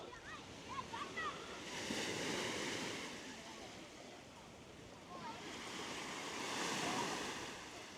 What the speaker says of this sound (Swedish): det går sådana vågor när det börjar närma sig land här